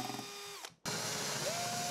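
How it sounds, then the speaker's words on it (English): A power drill with a 10mm wood bit boring into a wooden cabinet panel, a steady whining motor and grinding bite that halts briefly, then resumes with a rising pitch, close and loud throughout. "Then drill at recommended distance with a 10mm wood bit."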